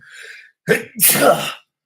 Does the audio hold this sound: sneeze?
yes